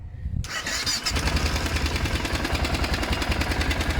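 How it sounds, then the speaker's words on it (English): A motorcycle engine cranks and catches, then idles with a loud, steady, thumping pulse up close, the rhythmic beat continuing throughout. "Got that weird thumpy engine noise."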